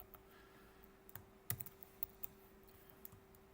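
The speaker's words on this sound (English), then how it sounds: "And I'm typing here" Quiet keystrokes tapping out a math interval on a computer keyboard, sparse and irregular clicks with one sharper key press, set against a steady faint hum.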